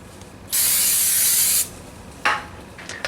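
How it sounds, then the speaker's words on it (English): Brake cleaner sprays in one steady loud hiss onto a new rotor for a 2003 Ford Mustang during a brake pad and rotor replacement, lasting about a second, followed by a short second burst. "Wash it down with brake clean."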